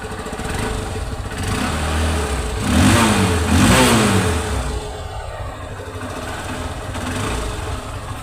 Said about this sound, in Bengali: তো গাড়িটা এখন স্টার্ট দিই